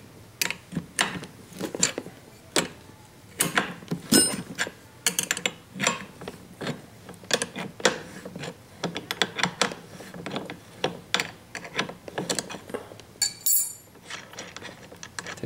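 Wrenches loosening a 17mm nut and a 6mm fitting on a kingpin bolt of a StreetStrider steering knuckle, giving close, irregular ratchet clicks and metallic ticks that run throughout with no talk.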